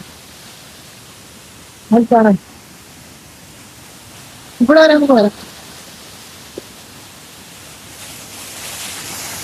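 Steady broadband roar of rushing water at Meenmutty Waterfalls fills the clip, with someone speaking briefly twice over it.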